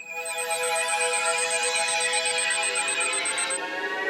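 A cartoon phone call rings with a steady electronic tone that holds and then cuts off after about three and a half seconds, loud and alone.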